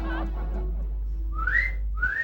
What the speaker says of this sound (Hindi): ये बाहर देख के सीटी किसे बजा रहा है?